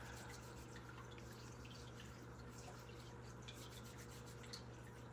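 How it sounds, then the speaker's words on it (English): Warm tap water runs steadily over hands being rinsed at a sink, a soft continuous hiss and patter with faint dripping, constant in level and close by. "We're rinsing our hands in warm running water."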